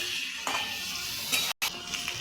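Salt, turmeric, chili powder and cumin powder sauté in a pan with a close, steady sizzle, while a spoon stirs and scrapes now and then, and the sound drops out for a brief moment.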